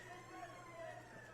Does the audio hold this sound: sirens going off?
yes